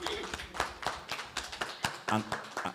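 Group hand clapping at a media briefing for the Ingoma dance competition, a rapid run of sharp claps mixed with voices nearby.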